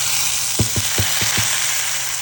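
Tomato pieces sizzle in a pan for moong dal khichdi, a loud, steady frying hiss with five quick, evenly spaced taps from stirring in the middle.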